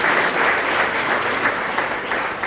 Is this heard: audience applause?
yes